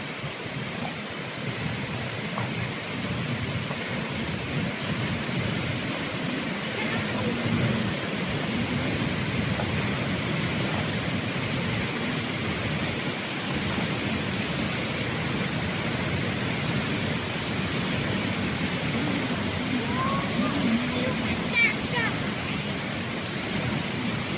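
Kwang Falls, a waterfall on Camiguin island, gives a steady, broad rushing roar that stays constant throughout, with faint voices in the background.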